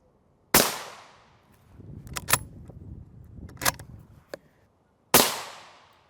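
Rifle rounds fired at a Highcom 3S9M NIJ Level III++ armor plate, two sharp loud cracks several seconds apart with fainter metallic clinks and rustling between them, no talking.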